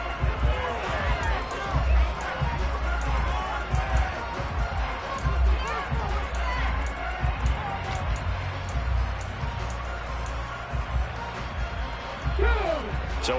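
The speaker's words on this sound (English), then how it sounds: "Plenty of shouts from this crowd as they watch the replay." A stadium crowd in the Madden football video game shouts and roars in a steady, loud wash that runs throughout, with a commentator's voice talking over it.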